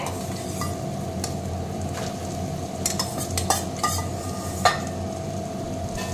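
Crumbled boiled potato is stirred into sizzling masala in a pan, a steady soft fry hiss broken by a few scraping knocks of a spoon against the pan.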